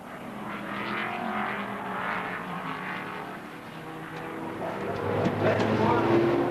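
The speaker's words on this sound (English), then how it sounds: "Spice challenges going down the Cascades and pulls clear of David as they round Foster's" Formula 5000 race cars at Oulton Park in 1975 drone through the Cascades and round Foster's, a steady engine roar rising toward the end, heard under a commentator's narration.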